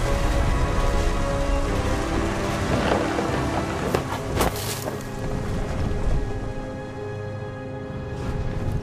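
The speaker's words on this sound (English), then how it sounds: "Rain came down in buckets then" Steady, dense rain pours down in the What Remains of Edith Finch game during a storm by the sea, a continuous loud wash with brief louder splashes midway and no voices.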